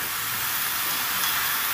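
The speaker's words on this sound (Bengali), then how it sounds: "ওই জলটাতেই আমার এই ড্রাই মশলাটা কষানো হয়ে যাবে" Dry spices sizzling and frying in the water from bottle gourd stems in a pan, a steady close hiss with soft crackle throughout, no voices.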